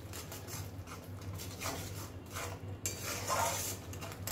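Metal spoon scraping and clinking against a pan while a coriander and chili powder spice mixture is stirred for spicy egg curry, irregular close-up scrapes over a low steady hum.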